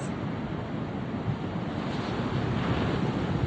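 Steady roar of Pacific Ocean surf at a cliff mixed with strong wind buffeting the microphone, continuous and loud, with no voices.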